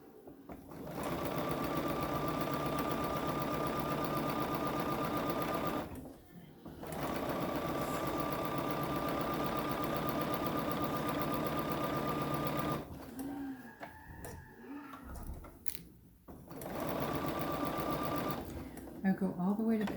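A sewing machine runs a pillowcase seam to the edge and back stitches, its steady motor drone and rapid stitching going in long bursts with brief pauses between runs.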